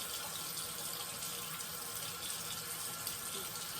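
Tap water runs steadily into a sink while soap is rinsed off, a soft continuous hiss and splash heard close, with no voices.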